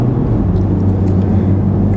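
A 2005 Mercedes-Benz SL55 AMG roadster drives with a loud, deep, steady engine drone and rumble, heard close from inside without talking.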